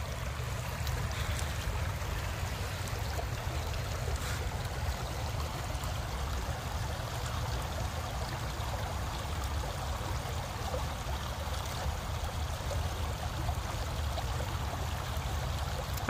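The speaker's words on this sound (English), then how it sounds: "I'm at the Menominee River here in southeastern Wisconsin." The Menominee River in southeastern Wisconsin flows with a steady, broad rushing wash that holds constant for the full length, moderately loud and unbroken, with no voices.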